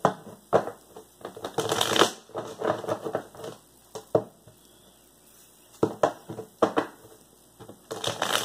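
Tarot cards are shuffled close up in a series of quick riffling bursts with short pauses between them, and there is no talking.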